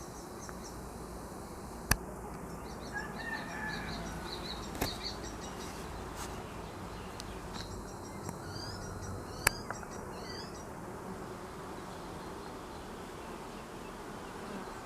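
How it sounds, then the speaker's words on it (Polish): A soft, continuous hum of many honeybees buzzing around an apiary, landing on roof tiles, with a few sharp clicks and faint bird chirps in the background. "i słychać po powietrzu to pobrzękiwanie pszczół"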